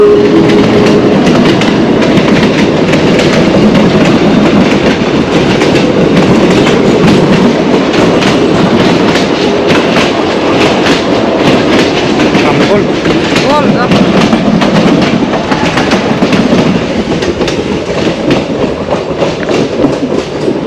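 A real train passes close by on the rail line along a walking trail near Machu Picchu, Peru, with a loud, continuous rumble and rhythmic clickety-clack that lasts the whole stretch, with voices faintly underneath.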